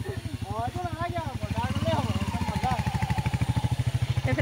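A motorcycle carrying three riders toward a hill market chugs along with a steady, pulsing engine throb beneath a person speaking close to the microphone.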